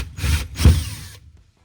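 An electric drill bores a hole while fitting a bit for a homemade gold crevicing pump, two short whirring bursts of rough drilling close by, then quiet.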